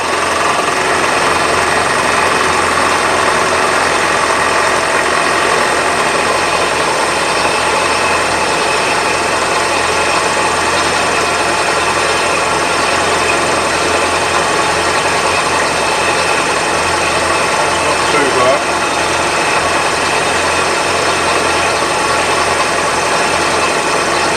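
Metal tool holder blocks being machined, the machine running steadily at low feed with a continuous loud drone and mechanical whine throughout, no talking.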